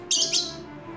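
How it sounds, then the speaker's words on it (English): Short bright chirps from a pet bird, two quick bursts close to the microphone, then fading, with no talking. "I'm gonna try to record some bird sounds."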